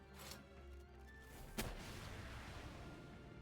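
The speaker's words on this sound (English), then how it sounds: "The rocket launcher stun's so good." A single sharp rocket launcher blast in the video game Palworld cracks out midway through, standing above a steady, dense bed of game noise.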